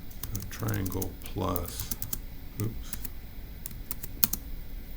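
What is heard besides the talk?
typing on a computer keyboard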